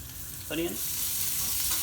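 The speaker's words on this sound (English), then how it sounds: "Just want to lightly caramelize the onion." Onion frying in a pan for lamb balti, a steady hiss of sizzling with a short burst of voice-like sound partway through.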